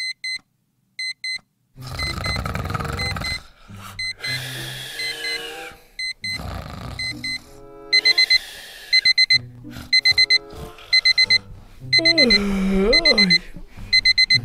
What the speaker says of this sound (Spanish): Está sonando el despertador.